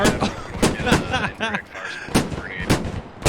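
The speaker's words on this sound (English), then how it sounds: "Now you got mortars firing right down as well, and this is a huge siege." Mortars and artillery firing in a video game siege battle, loud repeated booming blasts in close succession while someone talks over them.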